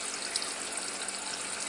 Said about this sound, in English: the reason there's the spray bar in there is so that the water is moving